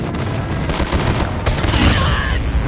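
Loud, dense video-game combat with a friendly airstrike, rapid gunfire crackling continuously under rumbling explosions, the barrage swelling toward the end with no pauses.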